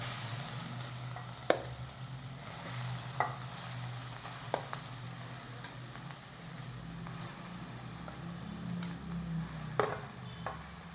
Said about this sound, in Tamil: பீட்ரூட்டை பச்சை வாசனை போகிற வரைக்கும் நெய்யில் முதல்ல வதக்கிக்கலாம்